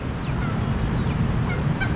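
Turkeys gobbling on a farm, brief warbling calls scattered over a dense, noisy background of other fowl and outdoor hubbub, moderately distant.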